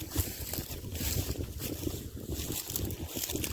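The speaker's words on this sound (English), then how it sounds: "So luckily, he is now going down the rapids." Rushing river rapids carry a floating plastic water bottle downstream, a steady broadband churn of turbulent water with gusty wind buffeting across the whole stretch.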